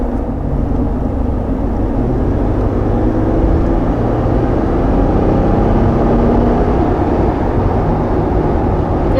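A 2021 Jeep Wrangler with a turbo diesel V6 drives at speed, a loud, steady low engine drone mixed with road and wind noise, continuous with no breaks and no talking.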